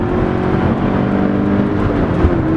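A 2013 Scion FR-S engine runs at full throttle on track, a loud sustained engine note with its pitch climbing steadily through the rev range, close and continuous with no talk.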